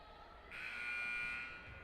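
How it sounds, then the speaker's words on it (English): A loud, steady electronic final buzzer at a men's college basketball game sounds for over a second against a background of crowd noise, then cuts off. "And the final buzzer"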